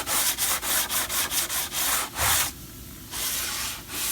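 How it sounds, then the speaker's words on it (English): A sanding block rubs back and forth in quick, regular strokes against a hard laminate countertop edge, a dry scratchy rasp repeating about ten times before a longer pass. "I'm just going to run my sanding block"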